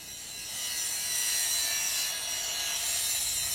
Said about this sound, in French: Pour un découpage très net, il faut en permanence aiguiser les dents des scies.